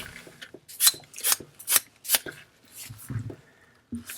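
A pencil scratches quick strokes across a Japanese natural whetstone: five sharp rasping lines in a steady rhythm, then a few softer scrapes, close and clear with no talk.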